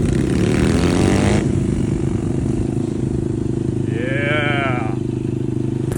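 A Chinese dirt bike engine roars steadily close by while it is ridden, a loud buzzy drone that holds its pitch throughout, with a voice briefly rising over it near the end.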